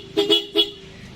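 Stock horn on a Honda PCX 150 scooter sounds three short, close, loud beeps in quick succession, the last slightly separated, with no talking.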